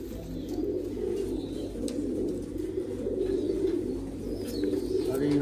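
Royal Teddy pigeons coo in low, throaty, repeated calls close by, layered over one another in a steady murmur without pause.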